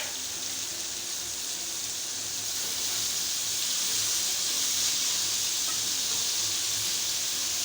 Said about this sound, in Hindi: अब जो है हम आज इनको फ्राई कर रही हैं।